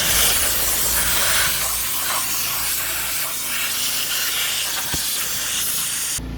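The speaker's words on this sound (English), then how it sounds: "the only way that you're going to get this out is by steam cleaning it" A steam cleaner working on a car's interior, a loud continuous close hiss of steam with slight shifts in tone as the nozzle moves, ending with a brief bump.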